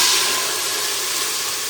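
Peas and mustard seeds hit hot oil with a loud, steady hiss and sizzle that fades slightly and holds without a break, and no voices.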